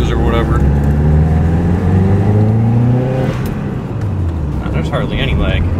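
A Subaru fitted with a front-mount intercooler drives along, its engine droning and rising in pitch as it accelerates, loud and close under a person talking.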